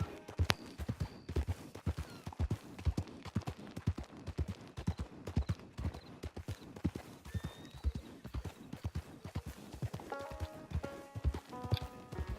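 Horse hooves gallop in Red Dead Redemption 2, a fast, regular clip-clop of close, loud hoofbeats with a brief snort and faint game sounds near the end.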